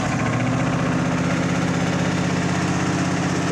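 A Massey Ferguson (Simplicity) riding mower engine runs steadily on choke at full throttle, a loud, close, continuous low mechanical drone with an even pulsing rhythm and no talk over it.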